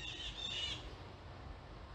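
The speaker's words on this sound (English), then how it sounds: "can hear the rustling of the trees and the birds in the background." Birds squawking and calling outdoors among rustling trees during plein air painting, faint chirps early on over a soft rumble of wind and ambient noise, no talk.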